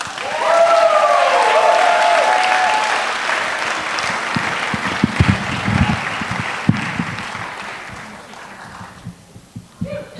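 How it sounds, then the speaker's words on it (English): An audience at an Ignite Denver speaker event gives a speaker a strong round of applause that peaks early and slowly dies away. A single voice begins speaking near the end. "please, a large round of applause for Elise."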